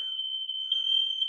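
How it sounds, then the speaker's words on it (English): A smoke-triggered fire alarm, set off by burnt toast, sounds as a single sustained piercing electronic tone, steady and fairly loud, with no pause and no voices. "Somebody burnt toast. That was the fire alarm."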